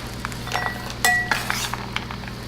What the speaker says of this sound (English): we're going to dump in our dark chocolate.